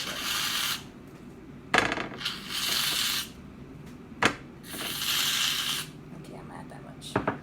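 Shaving cream hissing out of an aerosol can into fluffy slime: three sustained spray bursts of a few seconds each, close and fairly loud, separated by clicks and short knocks of handling.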